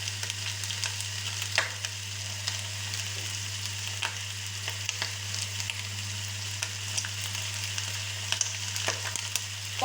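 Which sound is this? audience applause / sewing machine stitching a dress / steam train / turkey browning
turkey browning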